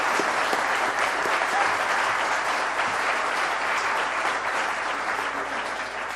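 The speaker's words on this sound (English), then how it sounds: "Thundering applause." Thunderous applause from a conference audience at a Python event for kids, dense sustained clapping filling the space at a steady loud level throughout.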